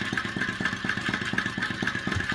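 A small gas-heated two-cylinder flame-eater engine runs steadily, giving a close, rapid, even chuffing beat with a thin high whine above it and no talking.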